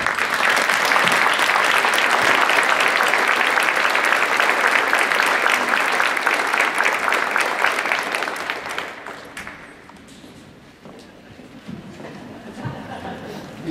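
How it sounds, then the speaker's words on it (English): Loud, sustained audience applause at a school Veterans Day celebration, a dense crowd clapping steadily for about nine seconds before thinning out into scattered claps and faint murmuring. "Give him a round of applause for it."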